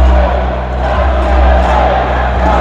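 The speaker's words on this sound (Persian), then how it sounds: "امریکایی های آزاد از سالان هم یک پارچه تشویق میکنن." An arena crowd at a freestyle wrestling final in Belgrade, a loud sustained roar of cheering with a low droning hum, steady and dense throughout.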